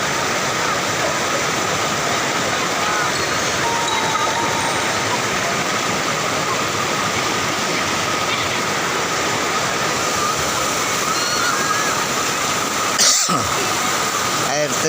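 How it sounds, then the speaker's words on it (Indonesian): Cigentis waterfall in Karawang roars as a steady, dense broadband rush of falling water, loud and continuous throughout, with a brief knock near the end. "Air terjun Cikentis."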